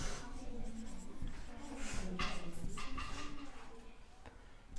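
Writing on a board or paper during a maths lesson on ratio and proportion, with scratchy marker or pen strokes in short bursts while a voice speaks intermittently.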